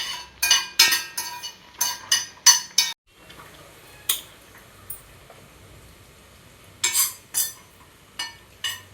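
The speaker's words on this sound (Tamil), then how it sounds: "இதான் ஃபஸ்ட் டைம் எண்ணெய் இல்லாமல் வறுக்கிறது" Dry roasting in a pan: a metal utensil scrapes and clinks against the pan in quick rhythmic strokes, pauses, then resumes with a few more stirs.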